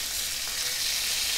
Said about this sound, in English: We'll just kind of brown them off.